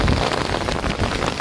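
Dense, continuous downpour during a cyclone on the Bangladesh coast at Tazumuddin, Bhola, loud close rain hammering surfaces in an unbroken rushing roar, with no voices.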